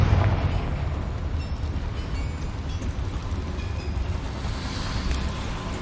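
A Confringo fire curse in Hogwarts Legacy bursts into a broad rumbling blast inside a small mine, a dense roaring wash of noise that starts strong and lingers as a sustained crackling rumble.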